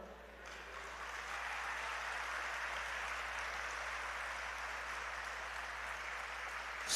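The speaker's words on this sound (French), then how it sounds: "c'est l'applaudissement le plus long" Sustained applause from a large crowd at a speech by Dr Jean-Bertrand Aristide, a dense even clapping that continues without a break throughout.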